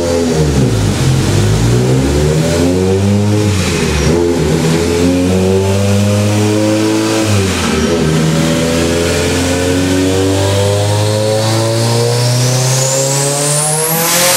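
A Mitsubishi Evo on pump gas with alcohol roars through a full dyno pull, its loud engine note dipping twice between gears and then climbing steadily to a high, sustained wail close up.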